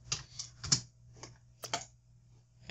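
Keys on a computer keyboard tapped while a value is entered into an audio compressor setting in Sony Vegas: a handful of crisp, separate clicks in an uneven rhythm, close and fairly quiet, with no talking.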